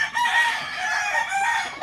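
A rooster gives one loud, close crow of nearly two seconds, with a strained, harmonically rich call and no speech over it.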